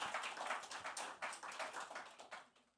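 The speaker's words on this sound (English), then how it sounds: "So we can applaud all our panel, all those beautiful ladies" Applause from a small audience at a COP28 panel side event on farmers and soil: a quick burst of close hand claps, rapid and irregular, fading toward the end, without talk.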